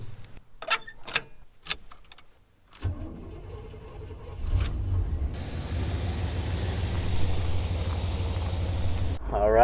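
A van starting up and driving off for farm work hauling beets, the engine rising into a steady loud rumble with road noise building toward the end, after a few brief clunks and a door-like thud.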